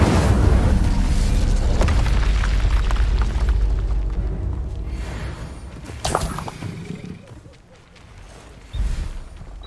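A fire spell cast in the Hogwarts Legacy video game on PS4 gives a loud, sustained roaring whoosh with booming low rumble, swelling and fading, then flaring again in short bursts.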